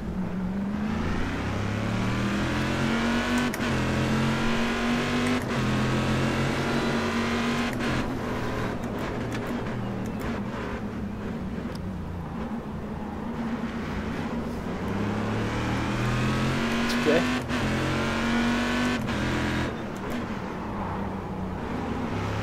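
A GTC race car at Zandvoort in the iRacing sim revs and accelerates at the green flag, its engine rising and falling steadily through gear changes for the whole stretch, loud and constant with no talking.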